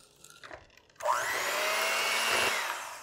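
Electric mixer whipping wet ingredients for keto cinnamon-roll-style donut hole batter: a few faint clatters, then the motor kicks in loud and runs as a steady high whine with a grinding edge.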